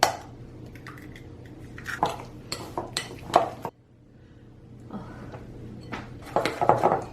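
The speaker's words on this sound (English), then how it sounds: "Now I have to add an egg." Brookie batter is mixed by hand after an egg goes in, producing irregular clinks and scrapes of a utensil against a bowl and wet squishing. A quiet pause falls in the middle, then a busier burst of scraping follows, with no voices.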